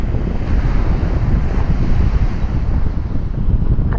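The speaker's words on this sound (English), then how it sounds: "I'm on Campsbay Beach, come for beach walk" Surf and wind on Camps Bay beach, a steady, loud wash of breaking waves mixed with gusting wind buffeting the microphone, continuous throughout with no voices.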